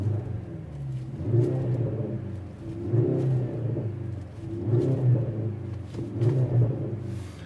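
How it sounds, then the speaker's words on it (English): Mercedes-AMG GLC 53 Coupe with its six-cylinder engine, fully warmed up, revving through the exhaust: a deep rumbling note swelling and falling in four evenly spaced rev pulses over a steady idle. "we have real sound from the exhaust"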